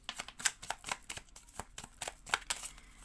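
Tarot cards handled on a table, a close run of quick papery flicks, slides and soft taps in an uneven rhythm with no voice.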